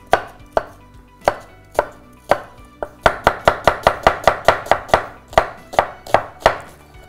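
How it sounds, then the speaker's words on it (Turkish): Onions being chopped for hot hummus: a sharp knife strikes a cutting board in close, crisp chops, slow and spaced at first, then a quick steady run of about a dozen rapid cuts, then slower again, with no talking. "Sıcak humusun soğanlarını doğramak üzereyim."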